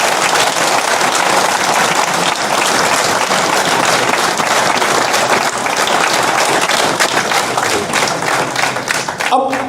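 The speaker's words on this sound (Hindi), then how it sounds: "तो पाकिस्तानियों के लिए हम सबको ताली बजानी चाहिए।" An audience applauds Pakistanis at a talk, dense, loud clapping that fills the room steadily and begins to thin out near the end, with no one speaking over it.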